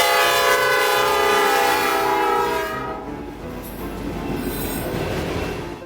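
NS B25 freight train on the Michigan Line, led by a high hood GP38-2 locomotive, rolls past with a loud sustained horn blast and squealing wheels, then fades into rumbling railcars.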